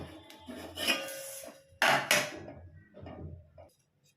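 A metal lid lifted off a pot and a tiffin box taken out after steaming eggs on a gas stove, giving a few close clanks and scrapes of metal, separated by short quiet gaps.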